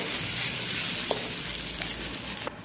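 Pasta with egg, salt and turmeric stirred in a frying pan, giving a constant loud sizzle with faint scraping strokes over about three seconds and no voices.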